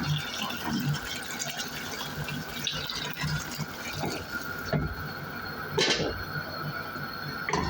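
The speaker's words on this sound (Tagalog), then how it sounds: "ang gagawin natin ay lagyan po natin ng tubig. Yung tubig na pinapakulo na siya" Boiled water is poured into a pot of chicken for an Arabic chicken marag, a steady liquid rush filling the pot close by, with brief clinks and splashes and no talk.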